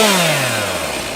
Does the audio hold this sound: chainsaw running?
yes